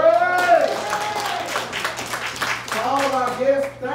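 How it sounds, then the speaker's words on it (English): Church congregation clapping hands in praise, a rapid run of claps running through the middle while a voice speaks or sings over it at the start and end. "give the Lord another hand clap for praise"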